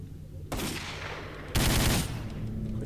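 Sniper gunfire in the video game S.T.A.L.K.E.R. Call of Pripyat, two sharp bursts of shooting, the second louder and longer, over quiet game ambience.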